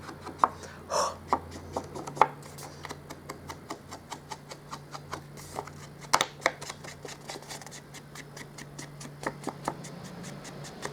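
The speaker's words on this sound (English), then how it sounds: "So now I've inked the edges so it looks a little bit more now vintage." A paper card has its edges inked with crumb cake ink, giving quiet, close dabbing and tapping clicks in an irregular rhythm over a faint background hum.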